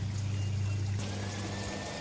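Water sloshes and trickles in a bucket as a bare-root rose is lowered into it, a close, continuous pouring sound over a low hum that eases off toward the end.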